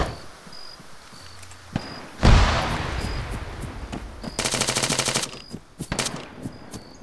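Gunfire in the Arma 3 Apex campaign during a spec ops ambush: a single heavy report, then a sustained rapid automatic burst, loud and close, with scattered further shots trailing off.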